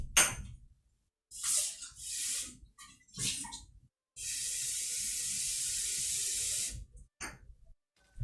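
Water runs from a tap in steady, hissing bursts into a container, with a few short splashes before one long continuous fill, close and fairly quiet.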